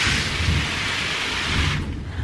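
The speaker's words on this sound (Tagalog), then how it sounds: "Mainit kanina tapos ngayon kumukulog." Thunder rumbles low beneath steady, loud rainfall in a Philippine home garden, the downpour hissing continuously and easing near the end, with no voices.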